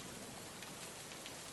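Steady rain falls on a garden, a dense, even hiss of drops hitting leaves and ground that continues throughout without pause, with no voices.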